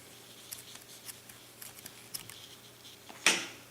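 Scissors snip through medium worsted crochet yarn, a few faint clicks followed by one sharper, louder cut near the end.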